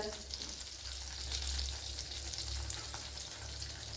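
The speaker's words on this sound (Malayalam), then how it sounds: "പാത്രം വെച്ച് അതിലേക്ക് ബട്ടർ ഇട്ട് കൊടുക്കാം" Butter melts and sizzles in a pan as tomato pasta gets started, a steady close frying hiss with a low hum underneath, no talk.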